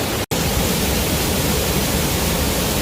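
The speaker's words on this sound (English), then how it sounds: "So here we are at Barbara Falls, the best waterfall in all of the Chugach State Park" Barbara Falls, a roughly 30-foot waterfall in Chugach State Park, Alaska, roars as a steady, dense wash of water noise, close and loud, with a brief cut near the start.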